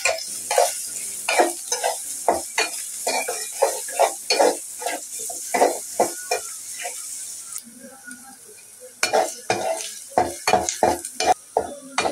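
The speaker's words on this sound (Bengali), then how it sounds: "আমি পেঁয়াজটা ভালো করে ভেজে নিয়েছি" Onions frying in a pan, stirred with a spoon in repeated scraping strokes over a steady sizzle, with a pause before the stirring resumes.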